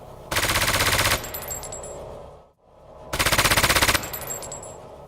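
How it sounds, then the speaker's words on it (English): Automatic weapon fire in a video game, two loud sustained rapid bursts, each followed by the metallic tinkle of spent bullet casings dropping to the ground. "I added the sounds of bullet casings being expelled to the ground."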